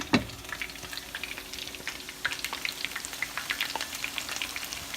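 Turkey sausage and onions fry in a pan with a busy crackle of pops and spits over a steady hiss, starting with a sharp clack and growing livelier toward the end; no voices.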